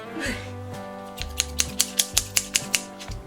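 A series of about ten sharp snipping clicks of scissors in a steady rhythm, following a brief spoken murmur at the start, with background tones throughout.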